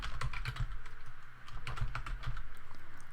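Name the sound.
typing on a computer keyboard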